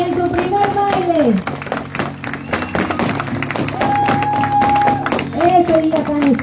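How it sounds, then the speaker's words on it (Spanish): Applause for Los viejos del progreso, a comparsa dance group, at their first dance on San Lucas day: dense clapping and crowd noise mixed with sustained musical tones, with a voice talking at times. "Fuerte los aplausos para esta comparsa, los viejos del progreso, en su primer baile."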